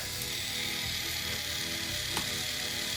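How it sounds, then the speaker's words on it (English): A small motor turns a curtain mechanism with a continuous ratcheting, gear-like mechanical whir, fairly quiet and steady throughout, with one brief click. "Test number 2. Can this motor drive it?"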